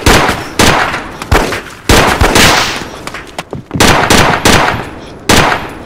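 Suppression gunfire in a SWAT raid video game: loud close bursts of automatic fire in irregular clusters with brief pauses, sharp cracks and echoing tails, no talking.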